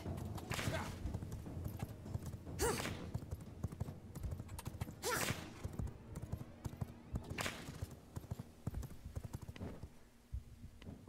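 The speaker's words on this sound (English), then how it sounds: "This is my horse." Rhythmic horse hoofbeats in the game V Rising clip-clop steadily at a gallop, loud and close, with a few heavier thuds and occasional snorts in the mix.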